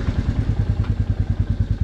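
Motorcycle engine putting along steadily at close range as a short ride begins, picked up by a helmet-mounted GoPro, with a rapid regular low thumping pulse throughout.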